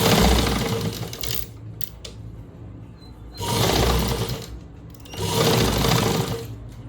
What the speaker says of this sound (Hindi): अब सिलना स्टार्ट करेंगे।